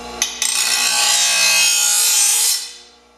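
A single long file stroke across a lawn mower blade to take off the burr: a steady, close metallic rasp lasting a couple of seconds, then fading out.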